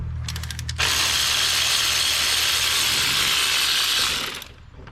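A ratchet works an alternator bolt loose on a Dodge 4.7 V8, with a few slow clicks followed by a long, steady run of fast, loud, close ratcheting.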